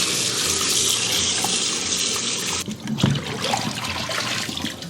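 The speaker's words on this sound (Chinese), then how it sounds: "我们先把鸡腿给它清洗干净" Tap water runs steadily into a kitchen sink while chicken legs are washed, a close splashing stream that changes to irregular splashes and trickles near the end.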